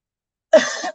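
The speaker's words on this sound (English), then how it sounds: "I start coughing and choking" A single short, harsh cough-like burst, close and fairly loud, lasting under half a second after silence.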